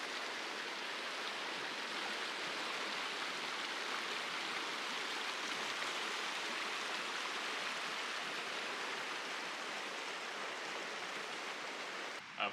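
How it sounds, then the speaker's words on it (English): Cold mountain creek rushing past a campsite, a steady, even broadband roar of flowing water, moderately loud and unbroken, with no one speaking. "I wanted to show you the creek that is right next to our campsite"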